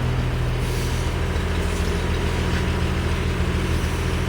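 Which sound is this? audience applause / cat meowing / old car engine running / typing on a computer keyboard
old car engine running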